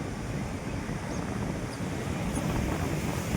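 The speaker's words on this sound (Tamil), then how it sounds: "நல்லா காற்றடிக்குது" Steady blustery wind rushes across the microphone on a Pondicherry beach with a surf-like roar underneath, continuous and fairly loud with no voices.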